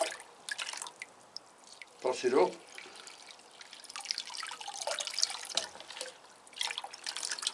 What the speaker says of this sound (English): So we'll start giving them the weekly water.